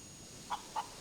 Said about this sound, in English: Why is there a chicken?